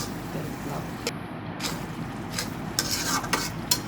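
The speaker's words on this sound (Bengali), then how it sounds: "যেন মশলার গন্ধটা না আসে সেজন্য আরও ভালো করে আমি তেলের মধ্যে কষিয়ে নিচ্ছি" Spices sizzle in hot oil while being stirred and scraped steadily for a home-style Bengali country chicken curry, with a continuous hiss broken by sharper scraping strokes near the end.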